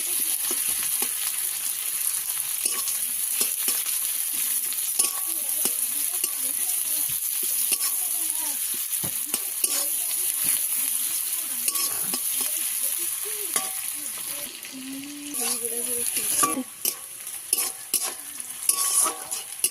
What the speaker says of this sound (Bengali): কড়া গরম হয়ে গেছে, দিয়ে দেবো তেল, দিয়ে দেবো পেঁয়াজ কুচি